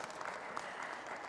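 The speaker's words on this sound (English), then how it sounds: "Give applause to all of us in this room." Audience applause fills a room at the close of a panel session on eco tourism, a steady dense patter of many hands, moderately distant and even throughout.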